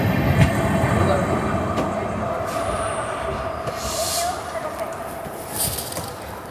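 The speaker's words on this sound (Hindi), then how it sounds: "हमारे अराइवल होते ही अजंता एक्सप्रेस निकल चुकी है उमरी से" Ajanta Express pulling out of Umri station, heard as a loud, continuous rolling rumble of wheels and coaches with faint high squeals, close by from a neighbouring train, with some voices in the background.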